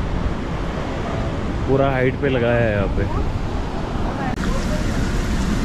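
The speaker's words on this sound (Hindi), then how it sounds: "ये देख लो यार पानी का फ्लो कितना खतरनाक है" A fast stream near the Tatapani hot spring in Marwah, Warwan Valley, makes a loud, constant rushing roar throughout, with someone speaking briefly over it.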